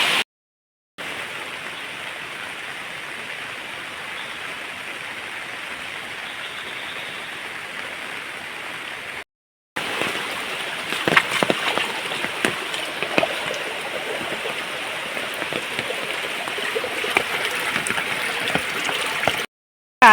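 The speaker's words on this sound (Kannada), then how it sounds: "ಈ ನೀರು ಈ ನೀರು ಹೋಗ್ತೊಂಡಲ್ಲ ಇದು ಆಚೆಗಡೆ ಹೋಗುವಂತದ್ದು" Floodwater left by heavy rain rushes past a village garden near jackfruit trees, a steady broad wash that cuts out briefly and returns louder and choppier.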